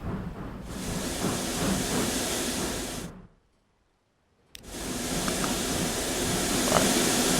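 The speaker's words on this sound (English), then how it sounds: "Here is the train." A freight train in the video game Transport Fever 2 gives off a steady hissing, steam-like rumble that cuts out to silence for about a second and a half mid-clip, then resumes.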